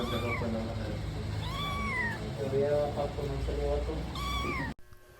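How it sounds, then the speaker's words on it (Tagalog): A cat meows several times at a vet clinic, drawn-out and plaintive, with a few quicker mews in between. It sounds close, and the clip cuts off abruptly. "Nagmeow-meow nga si Chloe din eh"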